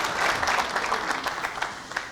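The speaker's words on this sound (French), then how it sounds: "que je vous demande encore une fois d'applaudir chaleureusement" Audience applause for a guest, Dr Saïd Sadi, at a literary café event, a dense, steady wash of many hands clapping that carries on for the whole stretch at moderate loudness.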